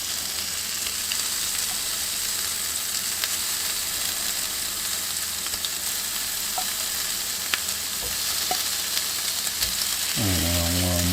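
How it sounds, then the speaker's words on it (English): Bacon-wrapped asparagus sizzles loudly and steadily on a Ninja Foodi Smart XL Grill, a dense continuous frying hiss with occasional small clicks and a brief electronic tone at the end. "Gotta love that sizzle sound."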